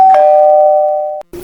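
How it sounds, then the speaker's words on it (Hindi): A doorbell rings indoors with a single loud, clear electronic chime that holds steadily for about a second before cutting off, heard alone at close range. "फिर डोरबेल बजती है।"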